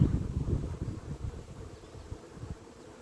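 Honey bees humming faintly and steadily around an open hive while queen cells are being grafted, with soft outdoor wind and rustling underneath.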